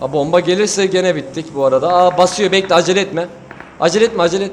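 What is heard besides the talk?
No distinct noise like a dog, phone or traffic.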